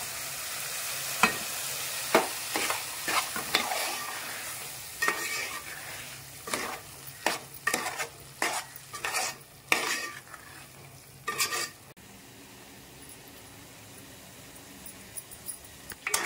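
Onion-coconut paste frying with wet cashew curry in a pan, a soft steady sizzle broken by repeated sharp scraping stirs through the first twelve seconds, then a quieter simmer with occasional light clinks.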